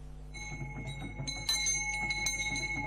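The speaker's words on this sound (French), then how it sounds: "La cloche pour sonner l'arrivée des chefs Douala ici au musée national" A ceremonial bell rings repeatedly at the National Museum in Cameroon, announcing the arrival of Douala chiefs, with bright metallic strikes, its ringing tones sustaining and overlapping, fairly close and steady.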